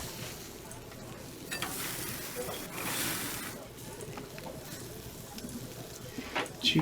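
French toast and Canadian bacon frying in the Nancy Drew video game make a faint continuous sizzle with soft crackles, heard quietly under background sound.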